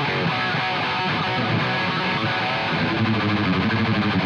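A heavily distorted electric guitar plays in a fast, aggressive thrash-metal style during a Fender technique lesson, forming a continuous, dense, loud wall of saturated tone throughout.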